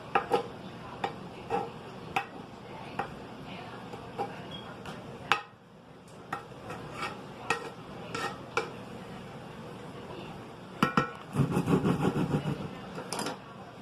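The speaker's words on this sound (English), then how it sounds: "What I'm going to do is take my spoon, I'm just going to cut it up." A metal spoon chops apples and batter in a bowl, giving repeated sharp clinks and scrapes at an uneven pace, near and fairly loud, with a denser burst of scraping near the end.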